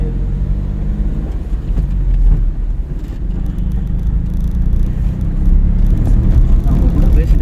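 A Ford Fiesta driving on the road during a driving lesson, with a steady low engine rumble and road noise throughout, voices talking over it.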